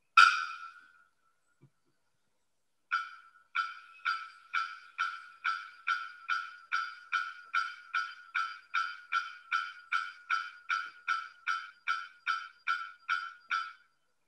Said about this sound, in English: It's the bearded bellbird, and this is the bird that was making that sound.